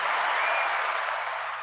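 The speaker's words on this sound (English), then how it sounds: "Round of applause." Brief burst of audience applause for a guest on a Dallas Cowboys draft discussion show, dense even clapping that tapers slightly at the end.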